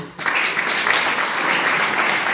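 An audience at a San Marcos university history congress bursts into strong applause for a Peruvian ambassador, starting abruptly and continuing as a full, even roar of clapping.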